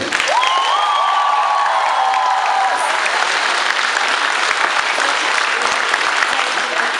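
Loud, sustained applause from a concert crowd in Zvenyhorodka honoring families of fallen soldiers, a dense steady wash of clapping lasting throughout, with a brief whistle near the start.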